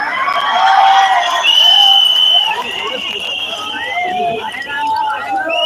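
Large crowd at a political rally in the heat, a loud wash of shouting and cheering voices with whoops rising and falling, a speaker's voice carrying over the din.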